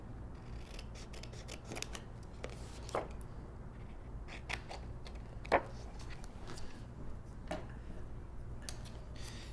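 Scissors snip a scrap of paper in a series of irregular, crisp cuts spread over about ten seconds, close and fairly quiet against a soft background hum.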